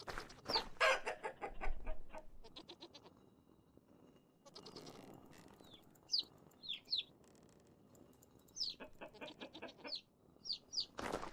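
Chickens in the video game Vintage Story cluck and squawk in irregular bursts, with high chick peeps scattered through the later half over a quiet farmyard backdrop, no voices.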